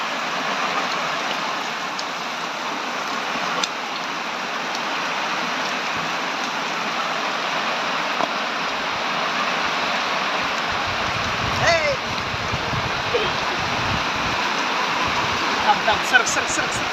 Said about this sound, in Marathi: लय जोरात आलेला आहे पाऊस.